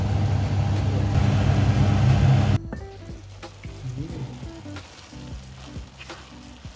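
Rice with nuts and peas cooking in a pot of water gives a loud, steady bubbling sizzle that abruptly drops to a quieter simmer with faint clinks partway through.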